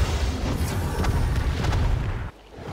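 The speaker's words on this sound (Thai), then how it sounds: "มีตายโดนบาซูก้ายิง" A bazooka blast goes off in the video game Catalyst Black, a loud, deep boom with a rumbling tail that holds for about two seconds, then cuts away sharply to quieter background.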